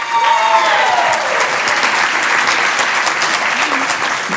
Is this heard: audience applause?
yes